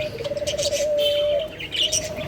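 A pet lovebird with an eye infection chirps up close, a quick burst of sharp tweets followed by a sustained whistled note and more bright chatter, loud and alone without talking.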